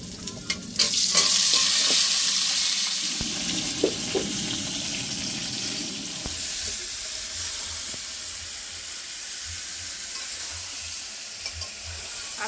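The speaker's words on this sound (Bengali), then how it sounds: "আমটা একটু ভালো করে ভেজে নেব," Raw mango pieces frying in oil for a pickle, a loud burst of sizzling at first with spatula scrapes and knocks, easing into a continuous softer fry, no voices.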